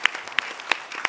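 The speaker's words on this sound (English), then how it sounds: "applause for him" Sparse, faint clapping from a church audience, a handful of separate claps spaced out over about a second, quiet and thin rather than a full round of applause.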